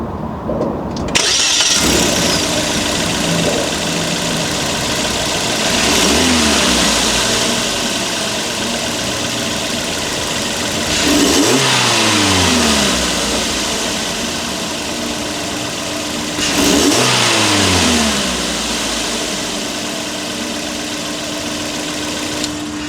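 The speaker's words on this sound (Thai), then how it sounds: "มาฟังเสียงเครื่องยนต์กัน" A Suzuki Ertiga GX 1.5-litre engine cranks and catches, then idles steadily with three separate revs swelling and falling back, loud and close with no talking.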